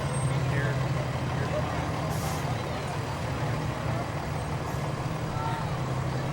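Medina Township fire truck rolling past in the Wadsworth Blue Tip Parade, a steady low diesel rumble with a faint air-brake hiss, close and continuous.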